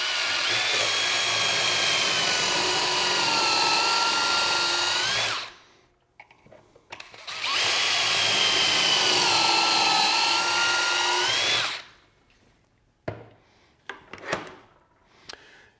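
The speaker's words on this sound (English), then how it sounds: "I just want to show you guys this first drill." A power drill with a Kreg 720 Pro pocket-hole jig whines loudly through wood in two long, steady bursts, cutting 15-degree pocket holes, followed by a few short clattering knocks and taps.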